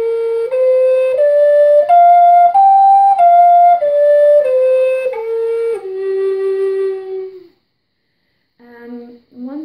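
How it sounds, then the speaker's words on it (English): A Native American style flute plays a pentatonic minor scale, clear sustained notes stepping up then back down one by one, followed by a pause and a couple of soft, brief notes at the close. "how to play the pentatonic minor scale on one of our flutes"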